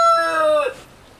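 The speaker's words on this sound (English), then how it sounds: "My rooster doesn't like that." A pet rooster crows once, a loud, close, drawn-out call that breaks off abruptly and leaves quiet background behind it.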